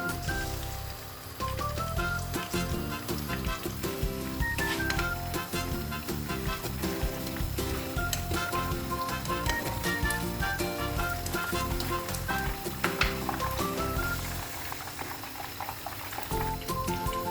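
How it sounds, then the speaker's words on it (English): Meatballs fry in a hot pan with a continuous crackling sizzle, bubbling and spitting steadily throughout, with melodic background tones running beneath the frying. "So I'm going to fry them for like 1 or 2 minutes"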